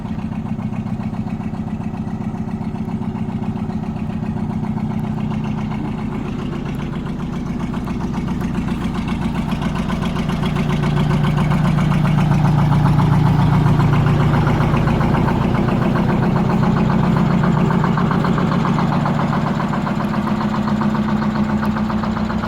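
An old Detroit diesel engine idles loudly in a 1970 Peterbilt 359 wrecker with a Holmes 750 body, a steady low throbbing rumble that swells slightly in the middle, heard close with no talk.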